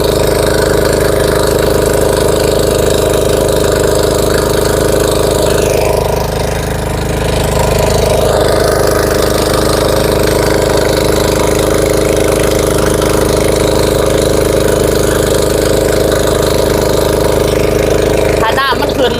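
A water pump engine runs steadily at a constant mid-pitched drone, loud and close, with a slight shift in its tone partway through; someone speaks over it at times.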